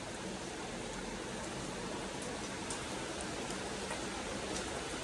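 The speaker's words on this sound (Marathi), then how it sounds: "बघा अजून पण वाढलाय पाऊस." Heavy rain falls in a steady, even hiss that never lets up, soft and diffuse with no voices over it.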